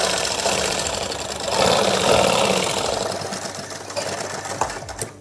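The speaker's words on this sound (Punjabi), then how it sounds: "ਇੱਥੋਂ ਸਲਾਈ ਲਾ ਰਹੀ" A sewing machine stitches pleats on a suit with a close, steady whirring clatter that swells in the middle and then eases off, ending with a few louder clicks as the stitching stops.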